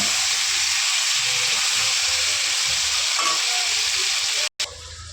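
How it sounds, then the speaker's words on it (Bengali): Pumpkin and potato pieces fry in hot oil with salt and turmeric, a constant loud sizzle and hiss close up, broken by a brief cutoff near the end. "দেখো কুমড়ো আর আলুটাকে আমি লাল লাল করে ভেজে নিয়েছি"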